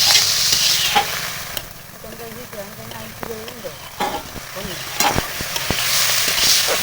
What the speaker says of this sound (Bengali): একটু ভালো করে নেড়ে নিবো